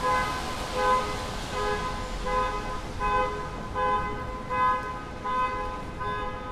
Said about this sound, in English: hopefully they'll turn their horn off